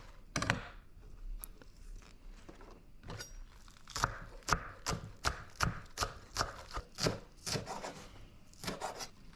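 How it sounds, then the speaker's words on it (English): Green onions are chopped with a knife on a cutting board, a run of sharp, close, evenly spaced knocks that speed into a steady rhythm after a few scattered cuts. "we'll chop up our green onions."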